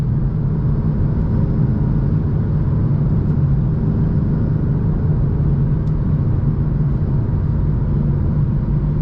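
Tuned 600 hp stage 2 BMW F82 M4 cruising at steady speed, its engine a constant low droning rumble with road noise, heard from inside the cabin without talk.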